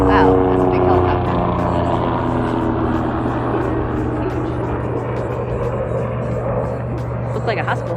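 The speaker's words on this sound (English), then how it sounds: "Wow, that's a big helicopter." A large helicopter passes overhead with a loud, steady low drone and humming tones that last throughout, while faint voice-like sounds rise and fall beneath it.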